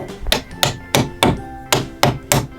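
A toy hammer from a Paw Patrol and Mickey Mouse pop-up pals tool box set strikes plastic pegs, seven sharp, close knocks spaced roughly evenly, with no talking.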